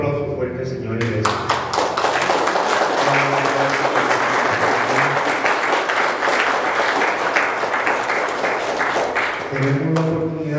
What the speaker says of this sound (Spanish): Dale un aplauso fuerte, Señor, iglesia.